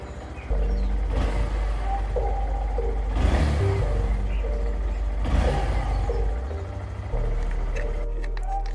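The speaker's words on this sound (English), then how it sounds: "Start the bike up, make sure the throttle operation is normal." A motorcycle fitted with heated grips starts up and idles with a steady low engine drone, the throttle blipped in a few short revs that swell and fade, close by with no talk.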